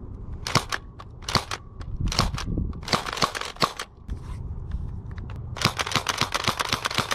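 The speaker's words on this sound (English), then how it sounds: "Now let's fire some shots downrange." An Adventure Force Desperado double-action foam blaster fires a string of sharp, close snaps in quick bursts with short pauses, each shot followed by mechanical clicks and rattles.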